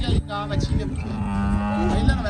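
A Cholistani Friesian cross cow lets out a long, loud, close moo with a steady tone, heard clearly over faint background noise on a farm.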